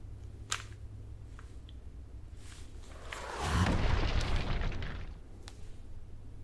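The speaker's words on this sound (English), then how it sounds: "the micro missile launcher" A rumbling, roaring blast rises and fades over a couple of seconds from a micro missile launcher firing and exploding, heard over a low steady hum with a few faint clicks before and after.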